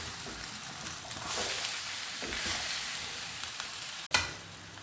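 Cooked sprouted legumes are stirred into an onion tempering in a pan, giving a steady soft sizzle with scraping strokes and a sharp clack near the end.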